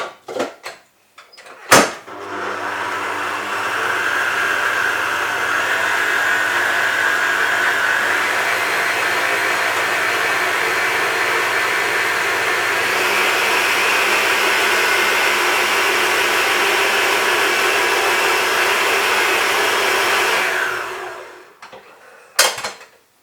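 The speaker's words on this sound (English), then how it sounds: "Now I'll just cream those in the mixer. A good old Kenwood chef." A Kenwood Chef stand mixer creams butter in its bowl, a steady whirring motor drone that starts after a brief clack and runs evenly for about twenty seconds before winding down.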